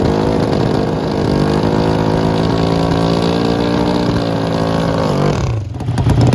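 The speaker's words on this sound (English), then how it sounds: "We've got an NHRA Pro Stock motorcycle test session." An NHRA Pro Stock V-twin motorcycle at a test session idles and revs with a loud, steady, buzzy drone that climbs slightly in pitch, then drops sharply near the end with no voices over it.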